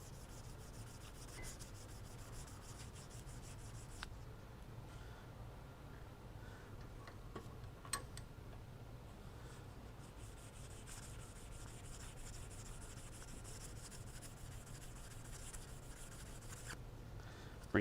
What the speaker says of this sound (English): we'll just lightly buff it